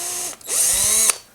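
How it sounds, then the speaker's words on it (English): Small power drill fitted with a tiny 1/8 inch bit boring into stainless steel, whining steadily for about a second after a brief spin-up, then stopping abruptly. "I'm just using a little tiny 1/8 inch drill bit. Nothing special. This stainless steel isn't really that hard."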